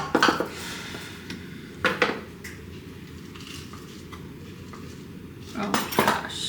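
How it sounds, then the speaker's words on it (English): Kitchenware clattering while coconut is poured into a bowl, with a few sharp close clinks and knocks separated by quiet stretches and a cluster of clatter at the end. "I tried to pour all of this coconut into this bowl."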